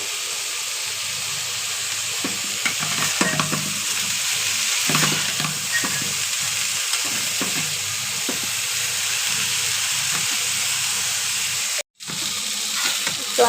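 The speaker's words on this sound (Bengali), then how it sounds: "তো আমার করলা ভাজি হচ্ছে।" Bitter gourd (karela) slices fry in a pan with a steady, dense sizzle and hiss, broken by occasional scraping stir sounds; it is close, fairly loud, and there is no talking.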